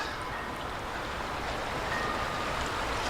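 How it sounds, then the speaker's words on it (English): Ocean waves wash in and out on a rocky coast with tidal pools at Bass Harbor Head, Maine, a steady broadband rush of surf with no voices. "It's the waves coming in and out. The sound of the water."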